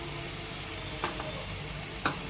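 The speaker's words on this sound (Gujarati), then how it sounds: "લીલું લસણ એડ કરી અને થોડી વાર આપણે સાતળી લઈશું" Green garlic sautés in a pan with tomatoes and spices for Gujarati cheese paneer gotalo, giving a steady, close sizzle and crackle with two brief sharper stirring clinks.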